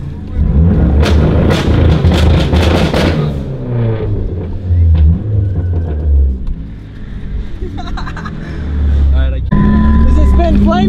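A car doing two-step launch control at a weekend meet, a loud, rapid burst of popping crackles followed by droning revs close by, with people talking over it.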